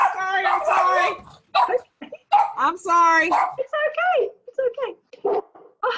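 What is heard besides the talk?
dogs barking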